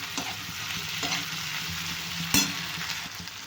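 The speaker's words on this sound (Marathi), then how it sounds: "आता या एकदम छान नरम पडेपर्यंत आपले टोमॅटो याला भाजून घ्यायचं आहे" Tomatoes and cashews fry in a pan with a soft, steady sizzle, interrupted by occasional stirring scrapes and one sharper clink near the end.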